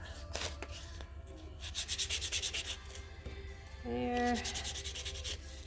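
Sandpaper rubbing over a small painted wooden craft piece in quick bursts of rhythmic scratchy strokes, close and fairly quiet, with a brief spoken word.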